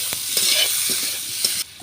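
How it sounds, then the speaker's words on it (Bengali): Fish curry with potatoes, chili powder and cumin powder is sautéed and stirred in a pan, a soft steady sizzle with a few scraping stirs, then a sudden drop near the end. "লঙ্কার গুঁড়ো জিরার গুঁড়ো চলো এরপর আমি এটাকে কষে নিই"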